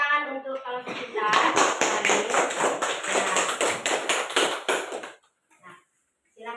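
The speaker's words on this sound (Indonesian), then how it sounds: "Tepuk tangan untuk kelompok pintar." A classroom of schoolchildren claps together in a quick, steady rhythm for a group of pupils, loud and close for about four seconds after a brief voice, then stopping abruptly.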